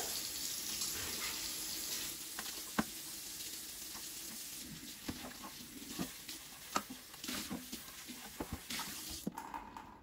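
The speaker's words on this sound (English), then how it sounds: "And I'm going to do the same with the outer basket. So again, just wash it with the soap all over." An air fryer outer basket is washed with soap under a running tap: a steady rush of water with scattered splashes and knocks from handling, fairly faint, ending with a brief clunk.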